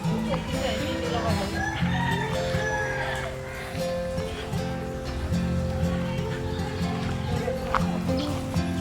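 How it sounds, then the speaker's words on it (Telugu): Chickens cluck and call nearby in a village garden amid a busy outdoor background with steady rain noise and occasional other sounds. "వర్షానికి చూడండి ఫ్రెండ్స్ కోళ్ళు అయితే వచ్చేసినాయి"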